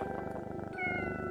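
A cat meows in the horror game Pocket Mirror, a short, clear, rising mew layered over the game's tonal music, with no talking.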